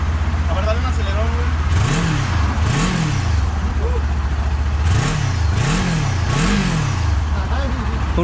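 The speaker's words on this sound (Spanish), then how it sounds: "La verdad, dale un acelerón" A Kawasaki Ninja 400 motorcycle engine idles close by, then is revved in five sharp throttle blips, each rising and falling quickly, with a steady hum between them.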